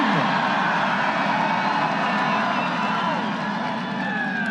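A large political rally crowd in Erie, Pennsylvania, roaring in a dense, continuous wash of cheering and shouting that stays loud and steady from start to finish.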